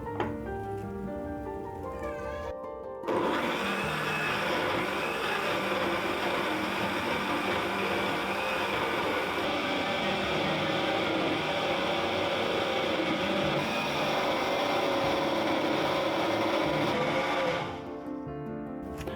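A blender whirs steadily as it purées pineapple and passion fruit with milk into a smoothie, a loud continuous motor roar running about fifteen seconds and cutting off near the end, with no talking over it.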